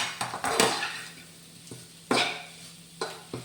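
Onions sautéing in a pan: a faint steady sizzle under a few sharp scrapes and stirs of a spoon against the metal, with no talking.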